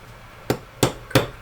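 A watchman's hammer taps on a box mod enclosure while holes are prepared for drilling: four sharp, close, evenly spaced knocks, with no talking.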